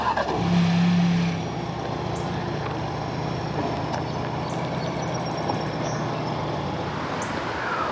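Engine of a 2024 Ford Ranger SuperCrew XLT Sport 4X4 starting by remote start, a brief louder crank-and-catch flare settling into a steady, close idle hum that continues alone.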